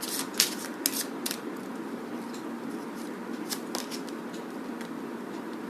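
Tarot cards are shuffled and handled in quick, faint riffling bursts. Soft crisp flicks cluster near the start and again in the middle over a low steady room hum, with no talking.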